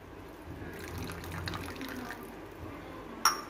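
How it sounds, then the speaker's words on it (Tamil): A little water trickles into a pan of prawn thoku masala, a soft steady pour ending in a brief sharp clink. "இப்போ இதில் தேவையான அளவுக்கு கொஞ்சமாக தண்ணி விட்டுக்கலாம்."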